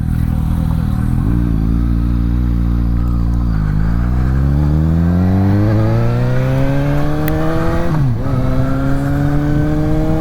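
A Suzuki GSX-S750 motorcycle engine pulls hard through the gears while riding, loud and close, its pitch climbing steadily with each shift and dipping at brief gear changes, accompanied by constant wind rush.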